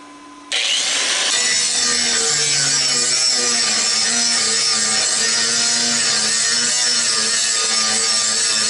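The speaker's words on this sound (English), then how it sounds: "I'll grind a spot right there and remove the ground clamp." Angle grinder biting into an old steel smoker, starting abruptly after a brief low hum and then holding a loud, harsh, continuous grinding whine close by, with no talking.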